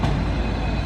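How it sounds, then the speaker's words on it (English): Railcars being shunted onto the end of a train at Topcider in Belgrade give a brief, steady, close rumble with no voices. "They were shunting it onto the end of that train."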